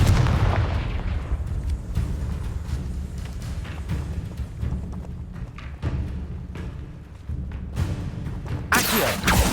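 Booming blasts from the Confringo explosive spell in the video game Hogwarts Legacy, a dense stream of thuds and bursts over a loud rumbling background, ending in a sharper crackling burst.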